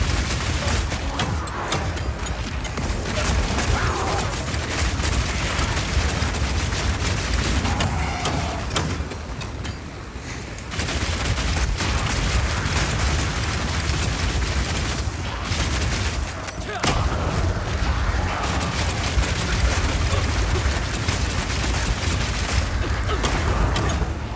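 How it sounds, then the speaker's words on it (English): Explosive grenades fired from a crossbow in the action game Path of Exile 2, a dense continuous barrage of booms and blasts with combat noise, running loud throughout under a talking voice. "Now I've been using explosive grenades here"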